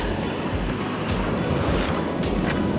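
Surf on a secluded Tobago beach, a steady broadband rush of waves breaking and washing ashore, loud and close, with gusting wind buffeting the microphone and no voices.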